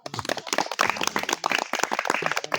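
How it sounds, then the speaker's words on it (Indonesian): Audience at an Indonesian village youth-organization and tourism-group sharing session clapping for a speaker, a dense burst of applause filling the whole stretch with scattered voices mixed in. "Tepuk tangan untuk Mas Udin."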